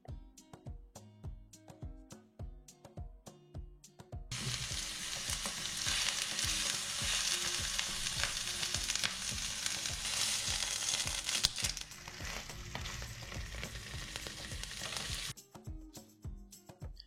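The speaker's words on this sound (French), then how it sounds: "Découpez un morceau d'onglet et c'est parti pour la cuisson." Beef hanger steak (onglet) frying in a pan, a loud steady sizzle that starts abruptly after a few seconds of quieter kitchen clatter and runs for about eleven seconds before dropping back.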